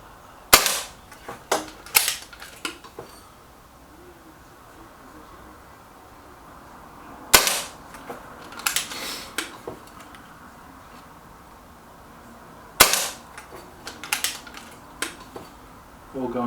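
Reximex Lyra K Carbine air rifle firing Acupels pellets: three sharp close shots several seconds apart, each followed by metallic clicks and clatter of cocking and reloading, with no talk.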